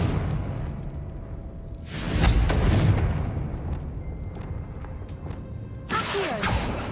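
A Confringo blasting spell explodes in Hogwarts Legacy, two loud booming bursts with a whooshing rush, the first near two seconds and another near six, over a low game ambience.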